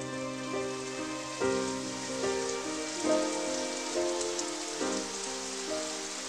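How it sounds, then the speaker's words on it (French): Rain falls steadily in a spring countryside setting, a soft, even hiss with scattered drips, with a faint melodic tone running underneath and no voices. "La pluie ne m'a jamais vraiment dérangée."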